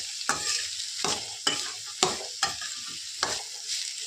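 Chapati filling stirs and fries in a pan, a constant hiss of sizzling broken by regular scraping strokes of the spoon, close and with no voices.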